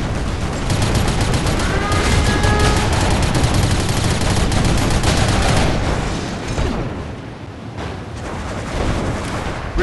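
Dense, loud battle noise from the ROTR strategy game, with rapid overlapping gunfire and heavy weapon blasts including a recoilless rifle. The sound is continuous and thins out slightly toward the end.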